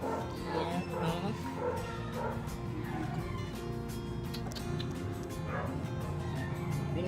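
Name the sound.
puppy yipping and whimpering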